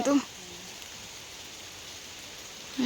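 Steady rain falls in a jungle near Chura Pahad, a soft continuous hiss of drops on foliage and ground that holds evenly throughout, with brief faint voice bursts at the very start and end.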